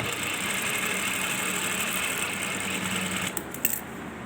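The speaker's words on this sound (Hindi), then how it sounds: "ये एक सिलाई लग गई है और दूसरी सिलाई इसके साथ लगानी है।" Sewing machine running steadily while stitching a men's shalwar without kalli, a continuous close mechanical whir with a brief change near the end.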